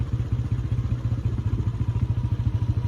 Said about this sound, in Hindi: ये चला रही है बाइक।